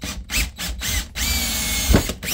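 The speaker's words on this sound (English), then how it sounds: "So we'll take our drill with our nail." A power drill spinning a nail chucked in place of a bit, whirring in several short bursts with brief pauses between them, building a crude junkyard diorama fence.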